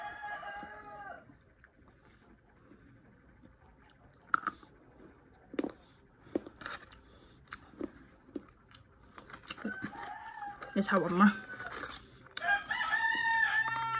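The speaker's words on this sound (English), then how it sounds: "Sorry about the roosters, guys." A rooster crows loudly nearby several times, with clucking fowl and a brief spoken remark in between.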